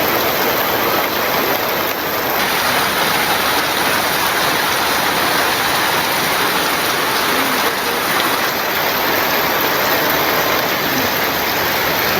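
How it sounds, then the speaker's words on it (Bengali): Steady rain falling outdoors, a dense, even wash of drops that fills the whole stretch without pause at a constant loud level, with no talking over it. "মোটামুটি অনেক সুন্দর বৃষ্টি নামছে।"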